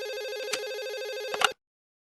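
A telephone rings with a steady electronic warbling tone, loud and close, running unbroken for about a second and a half before cutting off abruptly into silence, with no talk over it.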